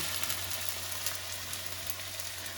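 Onion fritters and eggplant fritters in besan batter sizzle steadily in hot oil, a close, even crackle that lasts throughout.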